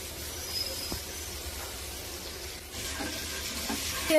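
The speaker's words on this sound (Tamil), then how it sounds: "இப்போ நம்ம பட்டர் எடுத்து போட்டுக்கலாம்" Butter sizzling in a hot pan for a Tamil-style bread chicken dish, a steady close hiss of frying with a brief stir or scrape partway through, no talking.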